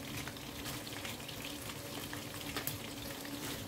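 Shrimp frying in hot oil, a steady, soft crackling sizzle with a watery, hissing texture, fairly quiet and uninterrupted.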